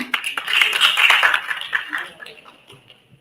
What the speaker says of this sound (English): A big round of applause for team number 9.